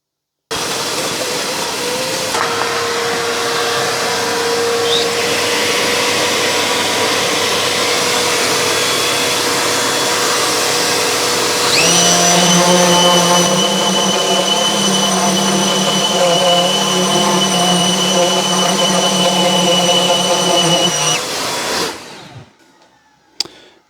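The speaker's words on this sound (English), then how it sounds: "we'll do the other side using my extractor" A Stanley Fatmax V20 cordless random orbit sander (SFMCW220) runs loud and steady with a dust extractor attached. A whining hum rises partway through and continues for about twenty seconds before the sander winds down and stops. No one speaks.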